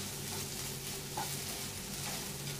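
Flat beans being stirred in a pan as a poriyal with freshly added grated coconut give a soft, steady sizzle with faint scraping, quiet and without talk.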